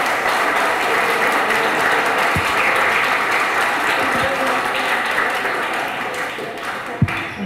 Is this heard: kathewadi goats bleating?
no